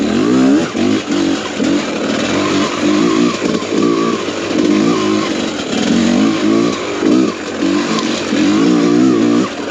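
A 2022 TM EN300 fuel-injected two-stroke motorcycle engine revs in loud, rising and falling bursts with a raspy buzzing tone, throttle blipped repeatedly and close by, with no voices over it.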